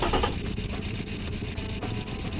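A small inline three-cylinder engine in the Automation car game fires up with a brief rough burst and settles into a steady, throbbing mid-pitched idle with a small-diameter exhaust.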